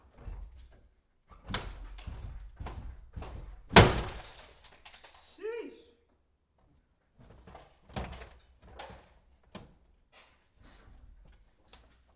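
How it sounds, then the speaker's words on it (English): Forcing open a stuck door on a wrecked Honda CR-V: a run of sharp knocks and thuds, one loud crashing bang with rattling near the middle, then scattered softer clunks and pauses, all close up with no talk. "Now that we got the door open, finally"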